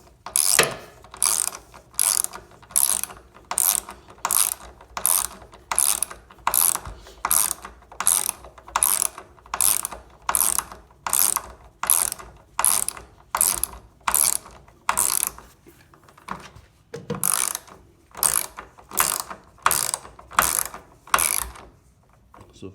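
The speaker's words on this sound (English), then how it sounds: "So if I had a electric ratchet, of course I could do it from here, but I don't. So I just use the hand one here" A hand ratchet tightens the mounting bolts of a Swiss Madison wall-hung toilet on a 2x6 frame, clicking in steady, close strokes with short pauses before the clicks resume.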